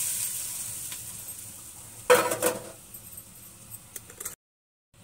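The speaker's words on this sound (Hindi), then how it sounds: "अब मैं इस तड़के को ऊपर से दाल में डाल दूंगी" A sudden loud sizzle bursts out as hot tempering oil is poured onto cooked dal, crackling for a moment then fading into lighter spits and pops before cutting off.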